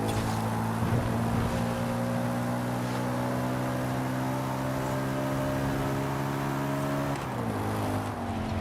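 A car engine in the racing game Forza Horizon 5, described with power close to a 2008–2009 BMW M3: a steady, loud sustained drone held at a constant pitch, dipping slightly near the end.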